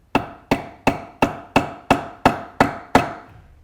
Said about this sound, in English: And then I'm going to grab my hammer